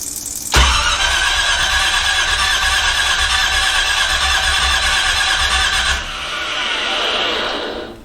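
An 82-92 Camaro engine cranking during a start attempt, a loud sustained whining grind that kicks in abruptly and runs steadily for about five seconds before dropping to a softer fading whir.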